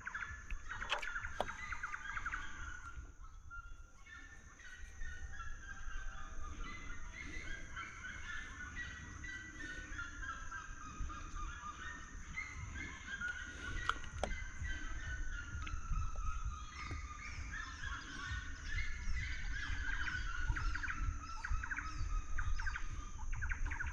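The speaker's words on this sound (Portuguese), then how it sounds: "Ó, a siriema cantando também, gente." A red-legged seriema calling near the Miranda River: a long, continuous series of loud yelping, gobble-like notes rising and falling in pitch, heard at a distance over a constant high insect-like whine and low outdoor rumble.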